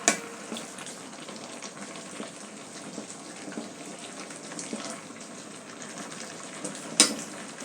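Steady sizzling and frying as Malabar spinach is stirred in a pan with rohu fish head and tail, a continuous hiss broken by a few soft clanks and stirs.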